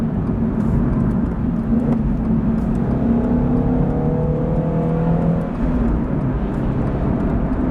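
Steady road and engine drone inside a Subaru BRZ cabin while driving, a continuous loud whir with a faint rising tone partway through and no talking.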